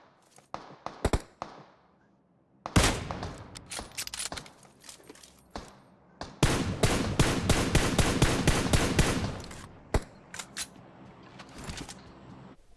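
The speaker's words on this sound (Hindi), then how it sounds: "इसने हीलिंग कैंसिल करके गोली चलाना चालू कर दिया था" Gunfire in the PUBG Mobile battle-royale game: scattered single shots, then two sustained bursts of rapid automatic fire, the longer one lasting about three seconds, loud and close with sharp gaps between volleys.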